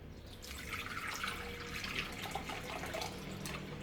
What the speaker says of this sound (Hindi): तो ये बर्तन हमने ले लिया इसके साथ का और इसमें हम पानी ऐड करेंगे।